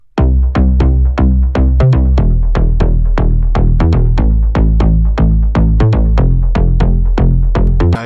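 A loud, gritty synth bass, low-cut at 117 Hz, pulses in a steady repeating rhythm, layered over a deep, rounded, unsaturated sub bass that sustains beneath each note.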